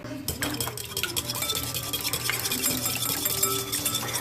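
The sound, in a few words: whisking eggs and salt in a bowl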